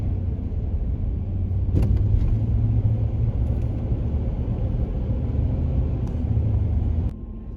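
A van's engine rumbles steadily from inside the cabin as it drives back onto the highway, a low continuous road drone with a few faint clicks, dropping away near the end.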